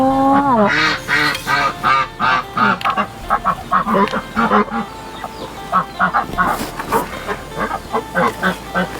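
A group of ducks quacks and honks loudly and repeatedly, nearby, in overlapping bursts with brief pauses between calls.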